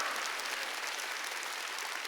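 A congregation claps together in a church worship service, a dense, steady wash of applause that fills the space with no speech over it.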